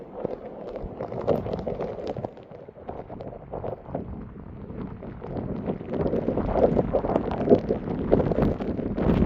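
Steady gusting wind buffets the microphone at an overflowing dam, with a broad rushing roar that swells louder toward the end; rain may be mixed into the noise.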